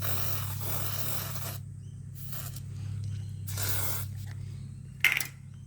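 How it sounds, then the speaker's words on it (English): Short bursts of an aerosol can spraying onto parts of a Greenfield mower under repair, three or four hissing sprays separated by pauses, over a low steady hum, with a sharp clink near the end. "So yeah, some more spray."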